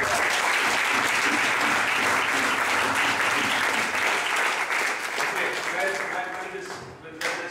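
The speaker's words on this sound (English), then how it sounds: "Give a round of applause for you" Loud, dense applause from a large crowd at a presentation event, steady for most of the stretch before tapering off near the end.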